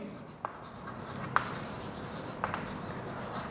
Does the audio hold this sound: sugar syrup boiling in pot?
no